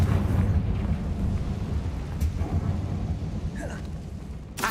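A Confringo blast in Hogwarts Legacy rolls out as a sustained rumbling explosion with a heavy low roar that slowly fades, a couple of brief sharp crackles riding on top.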